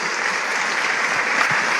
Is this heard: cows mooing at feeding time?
no